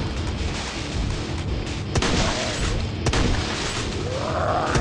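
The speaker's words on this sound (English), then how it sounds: "Super barrel shot." A super barrel shotgun blast in the zombie-shooter video game Unkilled: two sharp, loud booms stand out over a dense, noisy game soundscape.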